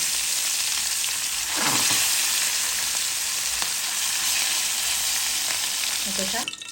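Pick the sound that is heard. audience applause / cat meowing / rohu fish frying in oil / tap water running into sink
rohu fish frying in oil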